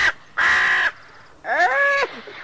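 Two harsh, nasal crow caws, the first longer and flat, the second rising and bending, sound close and clear with a brief gap between them.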